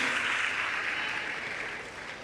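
Audience applause at a cultural event honoring a Catholic school, a steady dense wash of clapping from many hands that fades slightly toward the end, with no voices over it.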